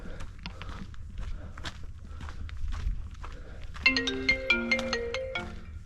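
Footsteps crunch along a dirt path on the Juniper and Summit Trail loop at Mount Diablo, then a phone ringtone starts up and plays a repeating melodic tune over the steady walking.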